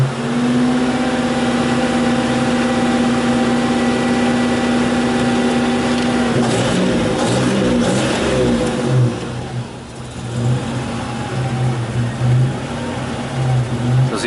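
A Buick Grand National engine idles steadily, then snaps up into a sharp throttle rev that quickly falls back to a rough idle, loud and close.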